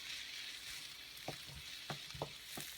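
Onions sauté in a pan until slightly golden, making a faint, steady sizzling hiss broken by a few soft stirring clicks near the end.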